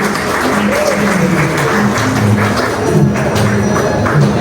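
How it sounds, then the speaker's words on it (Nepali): Sustained applause from a crowd at a ceremony congratulating students on passing their exams, a dense steady patter of many hands clapping throughout, with faint voices underneath. "ताली ताली ताली"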